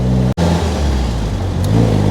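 A 1959 MGA sports car with a pushrod engine drives by close up, its motor humming loud and steady with a smooth, even drone and one brief dropout.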